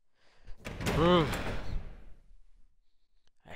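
Door opening in the Resident Evil 0 video game, a drawn-out creaking groan with a heavy low thud, lasting about a second and a half before fading to near silence.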